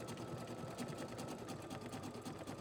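An embroidery machine stitching a felt bow design on glitter canvas vinyl in the hoop, running in a steady, fast mechanical rhythm at a fairly quiet level, with no voices.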